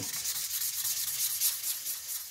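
Steady, continuous hand sanding of a black stone flecked with shiny bits, sandpaper rubbing along its edges in a close, even hiss with no pauses and no voices.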